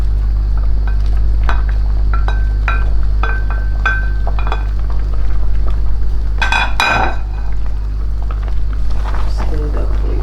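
Ogbono soup with dry fish being stirred in a pot: repeated scraping and clinking of a utensil against the pot over a steady low hum, with one louder knock partway through.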